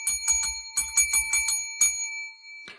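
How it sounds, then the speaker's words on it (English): Bell sound effect in a sports news broadcast, a bright metallic bell struck rapidly in several quick bursts, ringing tones sustaining throughout, close and clear with no talk over it. "That deserves a bell."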